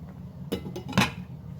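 A lid is set down on a cooking pan of wilting greens for a chicken coconut curry, giving two short metallic clinks close by over a low kitchen hum.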